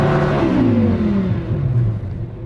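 Twin-turbo Lamborghini Huracan 5.2-litre V10 revving hard, a loud close continuous roar with rising and falling pitch sweeps, no talk over it.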